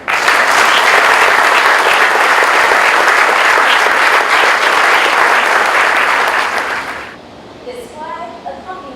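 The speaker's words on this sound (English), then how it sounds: "Round of applause." A large audience applauding at a U.S. Army retirement ceremony for a colonel, loud and dense clapping for about seven seconds that then fades quickly into quiet room sound.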